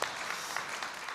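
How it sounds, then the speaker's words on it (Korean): A church congregation breaks into brief, dense applause during a Sunday service, a short burst of many hands clapping together. "박수 한번 합시다"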